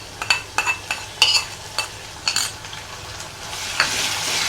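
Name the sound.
sautéing onion with ginger-garlic-chilli paste in a pan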